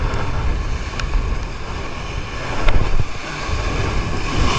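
Sea waves splash and wash against a small fishing boat out at sea under steady wind buffeting, with a few sharp slaps of water.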